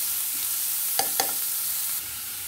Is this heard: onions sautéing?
yes